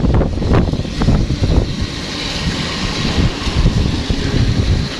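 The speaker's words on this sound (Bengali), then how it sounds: "সারা বাংলাদেশে মোটামুটি এরকম আবহাওয়া ওয়েদার রয়েছে তো অনেক বাতাস হচ্ছে" Strong stormy wind gusting over a microphone during a rain and wind storm in Faridpur town, Bangladesh: loud, continuous low roaring buffets that swell and ease in waves for the whole stretch, with no voices.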